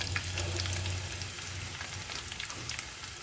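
Chopped onions fry in a pan with a steady, dense sizzle and crackle, faint and continuous throughout, with a low hum underneath and no talking.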